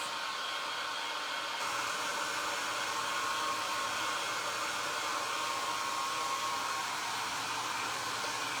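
A hair dryer blows on a freshly painted jar, its continuous steady whoosh of air holding an even level throughout, close to the microphone, with no talking.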